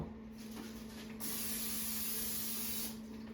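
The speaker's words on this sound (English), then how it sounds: "Can you spray the baking dish?" Cooking spray hisses steadily from an aerosol can onto a baking dish in a kitchen while sweet rolls are being made, a continuous close spray lasting a couple of seconds, louder in the middle, with no talking.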